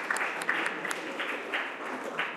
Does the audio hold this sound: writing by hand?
no